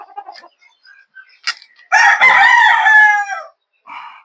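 A Boston Roundhead F1 gamefowl rooster gives one loud, close crow lasting about one and a half seconds, followed by a brief softer call, with faint clucks and scattered bird sounds before it.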